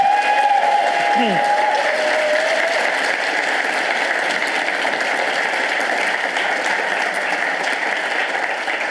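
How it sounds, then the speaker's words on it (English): Sustained, dense applause fills a hall for the participants of a university Three Minute Thesis competition, loud and even throughout, with a short whistle or voice near the start. "Can we have a final round of applause for all of our participants?"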